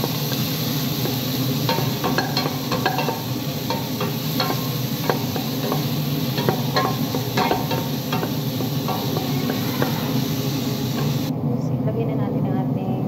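Chopped onions sauté in butter and olive oil for mushroom soup, a steady dense sizzle with frequent scraping stirs of a utensil against the pan, continuous and close, while someone talks over it.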